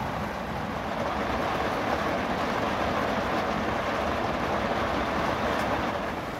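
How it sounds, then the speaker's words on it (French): Heavy rain pours down on a camper van during a big storm, a dense, steady roar of drumming drops that stays loud and constant throughout with no talk. "là il pleut vraiment de plus en plus fort"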